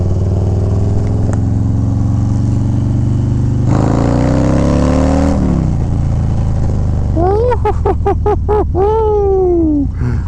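A Harley-Davidson Low Rider ST motorcycle engine idles with a deep steady rumble, then swells and drops through several quick throttle revs, loud and close with no talking.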